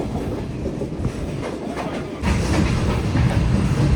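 Shah Hussain Express train rolling along a Pakistani branch line toward Chutiyana, a steady close rumble with clickety-clack wheel noise that grows louder and denser partway through, no voices.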